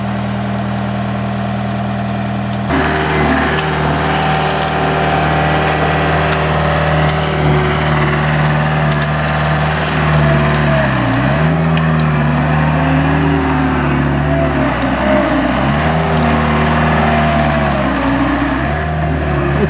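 A John Deere 319E compact track loader works dirt while building a food plot, its heavy diesel droning steadily and loud from about three seconds on, with low rumbling swells and clanking as the engine loads and eases.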